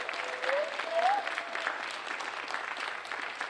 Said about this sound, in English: We have one more round of applause for Lost Day.